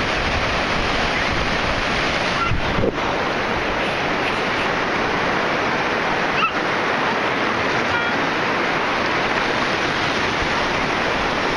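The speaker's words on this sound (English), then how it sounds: "Big old waves. Seriously, I think you could probably surf those waves." Big ocean waves break at Santa Rosa Beach, a loud, constant roar of surf with no pauses, close by and filling the whole scene, with no voices heard.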